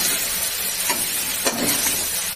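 Okra and mung dal fry in hot oil seasoned with turmeric and salt, giving a steady close sizzle and hiss that runs unbroken, with a couple of faint stirring knocks and no voices.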